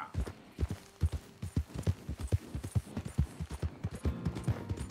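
Horse hooves clip-clopping in the video game Red Dead Redemption 2, a steady, fairly close galloping rhythm of sharp thuds that continues throughout, with faint background ambience.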